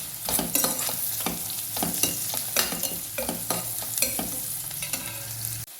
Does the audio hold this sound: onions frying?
yes